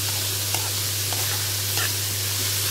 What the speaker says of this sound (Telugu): మామూలుగానే వేగిపోవాలి ఉల్లిపాయ